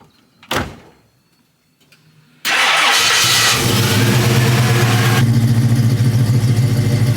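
A restored convertible car's engine cranks and fires after a door thud, then settles into a loud, steady idle close by, with no talking.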